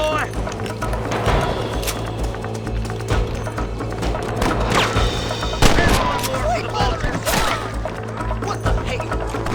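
Gunfire in the video game Red Dead Redemption, with sharp shots cracking over a busy game soundscape of hoofbeats and movement, loud and close, while a voice talks over the action.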